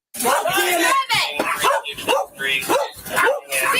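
A dog barks repeatedly, loud and close, in sharp rapid bursts mixed with yips, while a person talks over it during a tense indoor confrontation.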